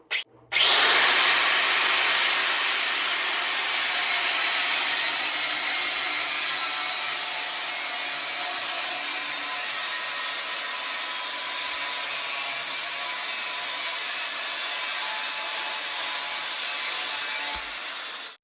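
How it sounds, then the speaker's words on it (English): A power saw runs steadily through scrap steel, cutting off small pieces for welding practice, loud and close. A constant high whine with a faint lower hum carries on for about seventeen seconds and then cuts off abruptly. "I've got some pieces of scrap steel, and I'm just gonna cut up a few little pieces"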